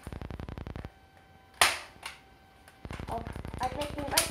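A BB gun fires pellets that ricochet back toward the shooter, heard as rapid bursts of sharp, close clicking shots, then a loud single snap, quieter pauses, and another fast volley of shots.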